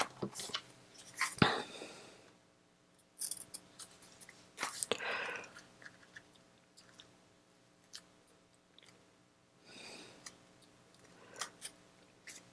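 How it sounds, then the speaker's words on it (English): Scissors trim paper flush along the edge of a small composition book, giving close, quiet snips and crisp crunching cuts in irregular bursts separated by short pauses. "I'm going to take my scissors and trim off that extra edge"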